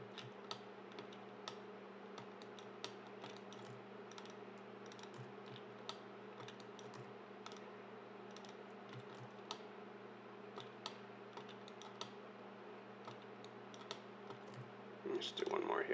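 Computer keyboard key presses while modelling polygons in Maya, faint scattered clicks tapping irregularly over a steady low hum, with a voice speaking softly.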